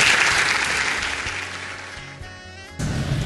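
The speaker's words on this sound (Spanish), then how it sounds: "Recibimos con un fuerte aplauso" Audience applause at a university conference on violence against women, loud at first and fading gradually, then a brief resurgence at the end.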